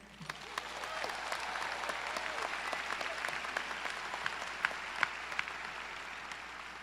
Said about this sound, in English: Let's give it up for the class of 2023.